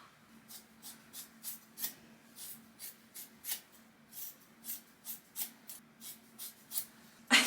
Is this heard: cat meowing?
no